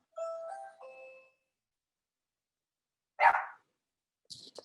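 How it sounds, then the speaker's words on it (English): Pet dog barking indoors, a single sharp bark in a quiet room, followed by a brief higher yelp, after an electronic chime at the start. "That's my dog."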